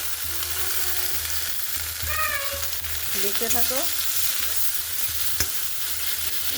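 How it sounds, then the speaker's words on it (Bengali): Spices fry and are stirred in a pan while an egg dish is cooked. A continuous close sizzle carries scraping stir strokes, a few high chirping squeaks and a sharp click, and a voice speaks briefly over the cooking. "মশলাটা পুরো কষিয়ে নেবো আমি ভালো করে।"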